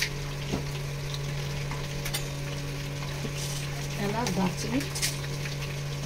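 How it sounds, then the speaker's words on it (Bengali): Whole spices such as cardamom, cinnamon and cloves fry in hot oil in a kadai for chicken curry, giving a soft, steady sizzle over a constant low hum, with occasional stirring clinks and a person talking throughout. "এবার কড়াইয়ে তেল, ওই তেলের মধ্যেই এবার একে একে সব সামগ্রীগুলো ভেজে নেব"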